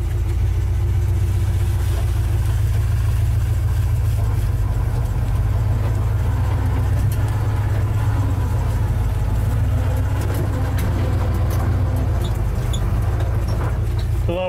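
A 1967 Dodge D200 farm truck's engine rumbles loudly and continuously as it drives, with rattling and clatter throughout.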